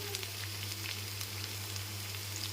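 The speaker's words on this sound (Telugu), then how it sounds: "కరివేపాకు వేగిన తర్వాత పచ్చిమిర్చి వేసుకుందాం." Curry leaves and green chilies fry in a pan, a steady close sizzle and crackle with a constant low hum underneath, no voices.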